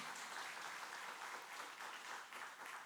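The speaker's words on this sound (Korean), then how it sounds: "여러분 박수로 환영해 주시기 바랍니다." A church congregation at a Sunday worship service applauds to welcome newly registered members, a soft, steady patter of many hands that stays even for the few seconds it lasts.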